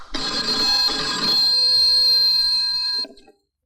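A telephone rings with a bright, sustained electronic trill for about three seconds, loud and close, then cuts off abruptly, with no talking over it.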